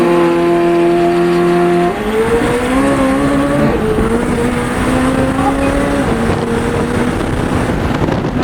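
McLaren 720S with rolling anti-lag driven on Los Angeles streets, a loud, close engine holding a steady high drone, then the revs drop and climb again through gears in rising, buzzing sweeps.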